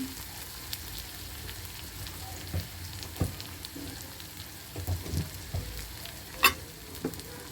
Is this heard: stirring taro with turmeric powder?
yes